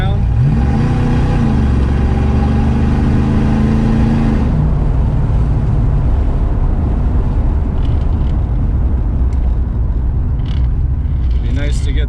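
Ford Mustang Foxbody V8 idling and revving with old fuel in the tank, a loud close engine note that climbs and then settles back while the transmission kicks down.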